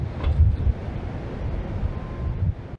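Wind blowing in Skyrim, a steady, fairly loud rushing gust that swells early, holds, then cuts off, with no voices over it.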